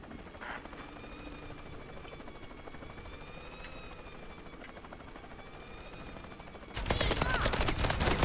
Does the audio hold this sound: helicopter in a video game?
yes